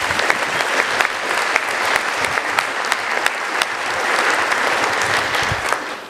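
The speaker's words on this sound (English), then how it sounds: "one last round of applause for all those who are receiving awards today." A large audience at a police and citizens award ceremony applauds award recipients, a loud, sustained roomful of clapping with crisp individual claps standing out and no talking.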